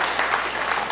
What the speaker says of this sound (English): And you can clap if you want.